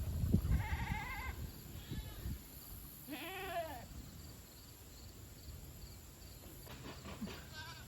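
Goats bleating at feeding time on a farm; several wavering bleats from near and middle distance, with rustling, footsteps and a faint insect chirp in the background.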